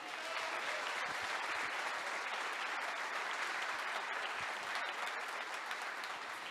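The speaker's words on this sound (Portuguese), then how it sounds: "Você pode aplaudir o Senhor?" A church congregation applauds continuously, a dense, steady wash of clapping from many hands throughout, filling the room with no gaps.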